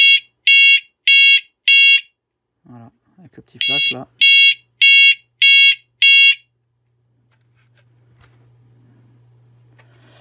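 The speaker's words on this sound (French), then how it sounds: "ça fait un essai sirène et un essai flash. Donc attention, ça va sonner." A battery-powered type 4 fire alarm runs its siren test: four sharp, evenly spaced electronic beeps, a brief spoken remark, then five more loud beeps, ending in a faint steady hum.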